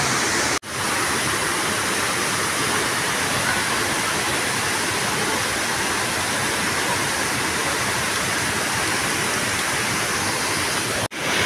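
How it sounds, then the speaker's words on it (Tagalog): Tagbibinta Falls, a waterfall at Maragusan, roars as a loud, steady, broadband rush of falling water, constant and close throughout with no breaks. "Look at ang ating Tagbibinta Falls."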